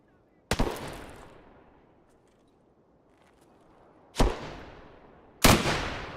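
Three sharp, loud SV98 bolt-action rifle shots ring out in Escape from Tarkov, one alone and then a close pair a second apart, each with a long decaying echo.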